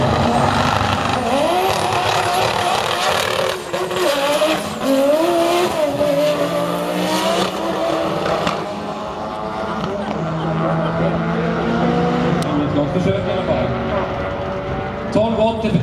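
Drag racing cars roar down the strip at a Swedish motorsport meet in 2009, with loud sustained engine howls and shifting pitch sweeps, heard under a commentator's continuous talk over the PA.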